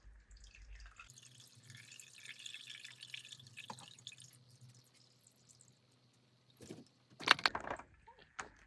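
Water dripping and trickling from freshly watered plant pots as they drain, faint and intermittent at first, then a brief louder patter of drips near the end.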